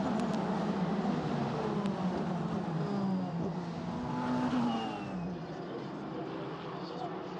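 Single-seater race cars accelerate off the line at a green-flag start, a dense, loud engine roar with rising and falling pitches that eases off toward the end, heard under a commentator talking.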